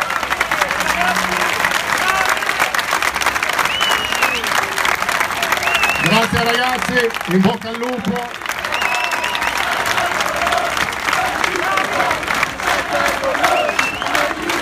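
An audience applauds steadily and loudly at a Parma Calcio 1913 team presentation, sustained clapping from a large crowd while someone speaks over it on a microphone.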